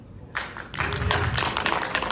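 Scattered audience applause at a post-screening analysis of The Batman, starting faintly then swelling into steady clapping with some light voices, moderately loud and close.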